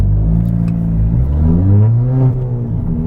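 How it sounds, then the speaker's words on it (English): A car accelerates hard on a dual carriageway, its engine note climbing steadily through the gears as a loud, close rumble, with no voices. "time to do some dual carriageway accelerating"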